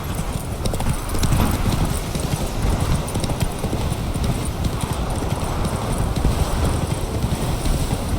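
A horse gallops in The Witcher 3 video game, fast rhythmic hoofbeats pounding close and loud for the whole stretch over windy outdoor ambience.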